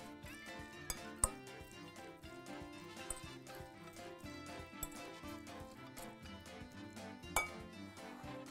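Sausage being stirred together with other ingredients in a bowl, giving a quiet run of rhythmic clinks and scrapes of a utensil against the bowl with a few sharper knocks.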